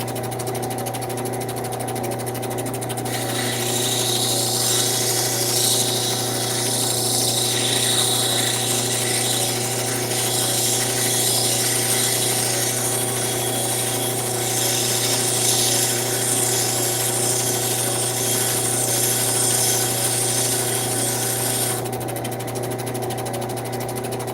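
A lapidary wheel grinds and polishes a turquoise cabochon, a steady motor hum with a bright, hissing abrasive wash that starts a few seconds in and runs continuously near the microphone before easing off at the end.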